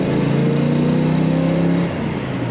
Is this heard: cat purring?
no